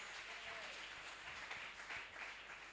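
A church congregation at a worship service applauding the Lord, a steady wash of many hands clapping together in a large room, sustained and fairly full throughout the moment.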